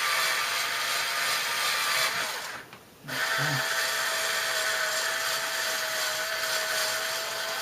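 A power drill whines steadily, loud and close, cutting out briefly for a moment before resuming its continuous grinding buzz; a voice speaks a single word during the pause.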